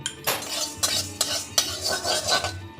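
Coriander and cumin being dry-roasted dark in a pan, heard as bursts of scraping and clinking from a metal spoon stirring the seeds, with a soft sizzle underneath and no talking.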